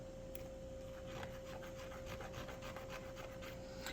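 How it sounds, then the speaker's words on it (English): Small brass cannon fittings for an 18th-century naval smoothbore model being sanded by hand, a steady close scratchy rasp of repeated short strokes with a faint constant hum behind it. "I think I will just go ahead and sand these"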